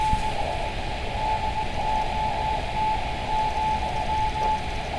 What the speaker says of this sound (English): Any Morse code enthusiasts?